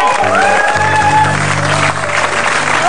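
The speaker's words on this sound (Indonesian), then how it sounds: "Oke, baik, kita kasih tepuk tangan dulu ya." Studio audience applause on an Indonesian TV talk show, loud broadband clapping filling the whole stretch, with music or tonal sounds running underneath.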